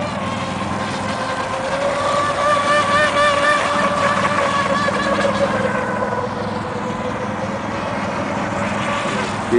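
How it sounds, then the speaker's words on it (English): Motorboat engine droning steadily on water, a loud, close tonal whine with shifting pitch throughout, easing slightly toward the end. "He plays the motor boat."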